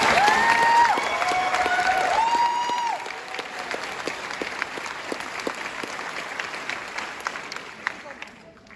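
An audience at a high school graduation ceremony applauds the class of 2024, broad clapping that fades and thins out over several seconds, with a voice over it early on.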